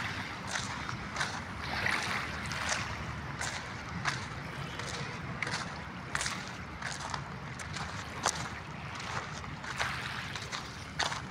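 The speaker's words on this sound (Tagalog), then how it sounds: "At gumagalaw-galaw na yung ating dagat, no. Maalon-alon na, umaalon-alon na." Choppy sea water in Manila Bay laps and splashes steadily along the shore, with brief brighter surges recurring every second or so under faint wind noise, low in level throughout.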